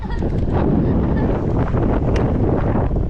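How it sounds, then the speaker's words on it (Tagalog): Strong wind roars and buffets the microphone in a constant, loud rush of noise with no pauses. "Grabe pa rin ang hangin. Lakas pa rin ang hangin."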